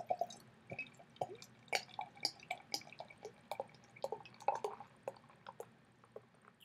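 Sam Adams Tasman Red beer is poured from a bottle into a glass, soft close glugs and fizzing drips coming in an uneven quiet patter as the head forms.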